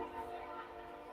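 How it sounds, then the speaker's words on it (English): A train passes at a distance, giving a faint, steady rumble with a long sustained horn-like tone and no voices. "Yeah, it's a train. 10 o'clock train is 2 minutes late."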